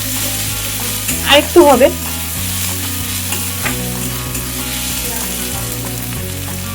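Salted onions, softened and reddish, sizzle steadily in a pan under constant close frying hiss, with a few stirring scrapes and a brief spoken remark early on.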